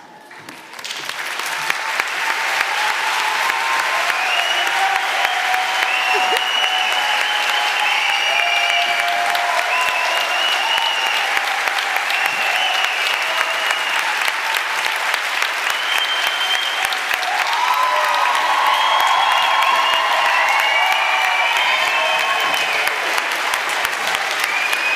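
Sustained, loud applause fills a hall at a 2022 commencement ceremony as the audience honors the graduates, a dense, even wash of clapping lasting about twenty-five seconds with faint voices and cheers mixed in.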